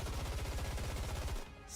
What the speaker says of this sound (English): Snow White unleashes a barrage of bullets in a frenzy.